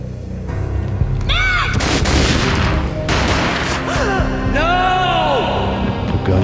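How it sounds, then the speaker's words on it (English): Gunshots in the PC game Max Payne from 2001, a loud, continuous barrage of booming shots and rapid bursts layered over swooping, bending tones and an ongoing rumble. "A gunshot boomed and she fell down in slow motion."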